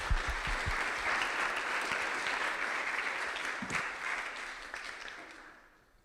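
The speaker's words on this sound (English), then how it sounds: "So round of applause, please." Applause from a scientific workshop audience on ice sheets thanking its speakers, a thick, steady patter of clapping that thins and fades out toward the end.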